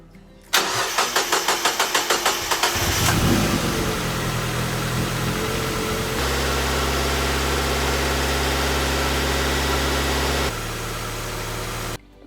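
A Mazda Miata NB engine, its throttle body just cleaned, cranks in a rapid series of beats, catches, revs briefly and settles into a steady, loud idle up close, with no talking.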